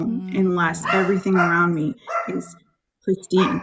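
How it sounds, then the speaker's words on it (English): A dog barks and yips in short bursts mixed in with a person talking close by at a steady level, with a brief quiet gap before the talk resumes. "that was my dog"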